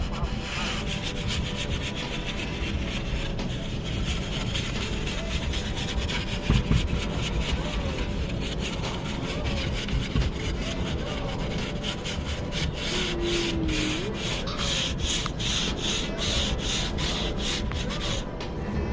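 Continuous rubbing and wiping on wood as teak oil is worked into outdoor patio furniture, a steady close scrubbing texture with brief rhythmic strokes and no talking.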